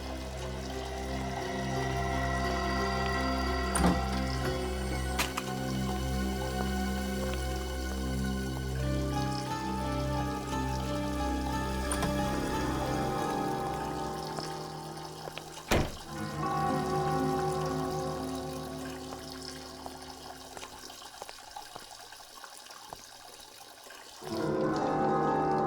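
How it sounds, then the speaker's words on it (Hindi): Water runs steadily somewhere down in a building's basement, a continuous rushing pour heard from a distance under a sustained musical drone, with occasional sharp knocks before it cuts off near the end. "ये पानी की आवाज तो बेसमेंट में से आ रही है"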